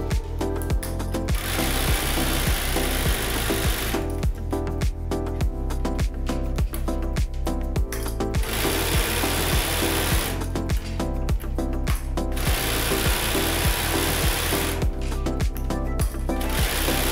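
A sewing machine top-stitches fabric bows with a top stitch foot, running in rapid rattling bursts of a few seconds each, separated by short pauses, close and clear.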